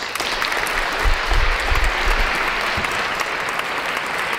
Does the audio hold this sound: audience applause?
yes